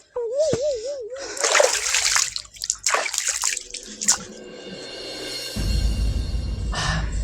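Someone bathes with cold water in winter, throwing it over themselves in bursts of close, loud splashes and sloshes, then a steady pouring stream. A short warbling vocal sound comes early on.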